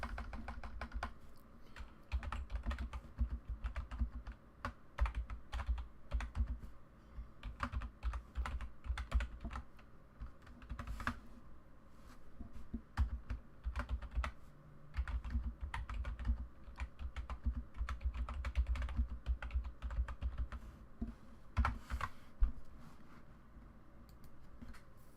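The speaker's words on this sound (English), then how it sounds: "get that out of the way so I can type like a normal human being" Rapid, irregular keystrokes clatter on a computer keyboard, continuous bursts of close, fairly quiet typing over a faint background hum with brief pauses.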